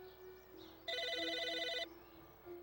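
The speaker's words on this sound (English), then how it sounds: "Telephone is ringing." An in-game telephone rings in Psychonauts: one burst of bright, warbling electronic trills that stops about a second later, over a faint steady background tone.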